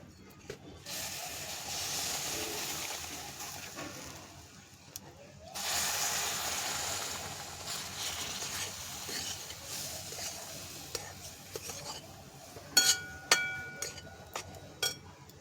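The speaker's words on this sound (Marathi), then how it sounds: "आधी आपण पाणी टाकून घेऊ." Two long bursts of loud hissing steam as water hits a hot pan on a wood-fired stove, followed by a few sharp metallic clinks.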